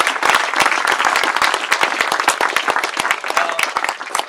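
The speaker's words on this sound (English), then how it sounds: "I want to give a big round of applause" Audience applause at a welcome home party, a dense wash of many hands clapping steadily and loudly throughout with no talk breaking through.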